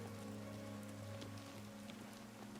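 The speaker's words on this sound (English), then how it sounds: "But now I have to wait out in the rain." Steady rain falls at night outside the Arcane University in Oblivion Remastered, a constant soft patter under a low droning game ambience, with no talk.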